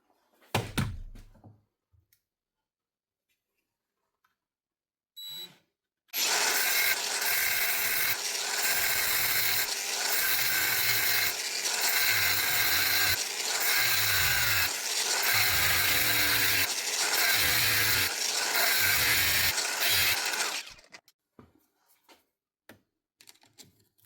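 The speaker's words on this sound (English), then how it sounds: "You're going to cut down through just the inside of this here chuck and just nip the spindle itself." Power tool cutting into the chuck of a drill during a repair: after a brief start and stop, a loud, harsh grinding whine runs for about fifteen seconds with a regular pulsing rhythm, then cuts off into quiet clatter.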